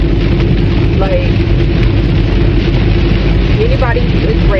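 Steady rain falls without pause, a dense, even hiss that fills the whole stretch, with a voice faintly present underneath.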